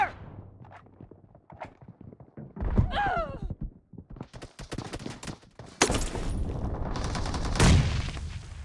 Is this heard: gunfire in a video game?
yes